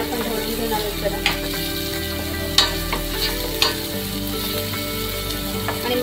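Ground masala paste with turmeric cooks in a pan while a spoon stirs it, giving a steady close sizzle with a few sharp scrapes and knocks against the pan, no talking.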